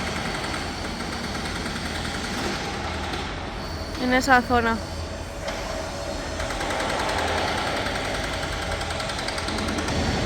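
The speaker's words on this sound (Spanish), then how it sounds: "ahí está el martillo hidráulico." A hydraulic breaker hammer at the Santiago Bernabéu stadium construction site in Madrid, a rapid, brief burst of pounding over a constant hum of site machinery, distant, with someone speaking briefly over it.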